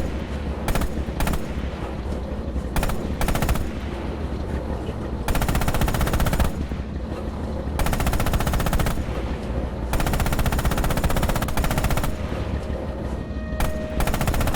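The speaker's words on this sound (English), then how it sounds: "Open fire with the coax MG on those targets." The coaxial machine gun of a tank in Red Orchestra 2 fires loud, sustained bursts, some long and some short, with only brief pauses between them.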